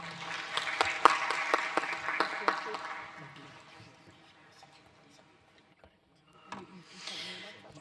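A crowd claps in applause for a few seconds, the clapping thinning out and fading to near silence, then a brief rustle.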